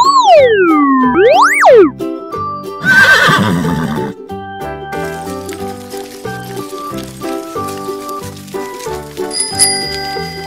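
A loud, cartoonish horse neigh rises and falls over about two seconds and is followed by a brief animal call, all set over bouncy children's music with bell-like tones.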